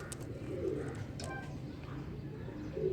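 A pair of Indian breeder pigeons coo softly in a cage, low gurgling calls repeating under steady background noise with a few brief chirps.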